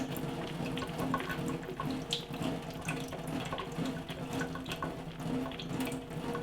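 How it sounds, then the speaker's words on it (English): Water poured out of a Nissin instant noodle cup splashes steadily into a sink, a close, continuous gurgling pour lasting several seconds without voices. "You pour the water"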